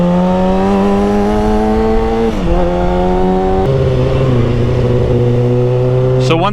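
Kawasaki 636 sport motorcycle engine revving loud and close, its pitch holding steady, dipping, then stepping up and down between gears across several seconds, with a brief sharp rise near the end.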